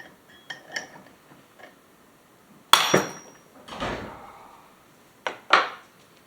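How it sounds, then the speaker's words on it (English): A makeshift puller is worked on the flywheel of an old Remington SL9 chainsaw, giving a few sharp metallic knocks and clanks with scraping in between, close and irregular. "we've sort of rigged up a puller here. I'm gonna try to pull the flywheel off."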